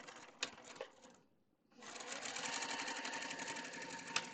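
A sewing machine stitching a quilt block seam, a quick burst of stitching, a brief pause, then a steady fast run of stitches with a back tack at the end, close and alone without talking.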